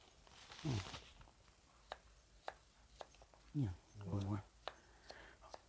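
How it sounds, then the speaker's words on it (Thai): A knife slices shallots on a cutting board while preparing steamed fermented-fish curry, giving quiet, sharp, irregular taps, with a voice speaking softly in between. "ซอยหอมลงไปค่ะ"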